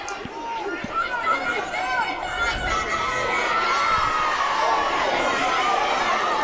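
Spectators at a BUCS women's Super Rugby match between Cardiff Met and Loughborough shout and yell in a dense, continuous roar. The high-pitched cries build steadily and stay loud throughout.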